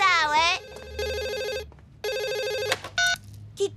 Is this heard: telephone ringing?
yes